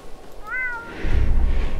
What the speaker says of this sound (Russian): Не надо мяукать.